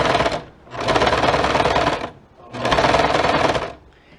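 Sewing machine stitching down the sleeve of a ready-made garment, two loud, fast continuous bursts of rapid mechanical chatter separated by a short pause, close and dominant.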